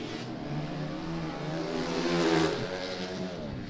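A KTM two-stroke racing motorcycle ridden by Ryan Wells in a bikes-and-quads race: a steady, somewhat distant engine drone that swells in pitch and volume toward a peak near the end, then eases slightly.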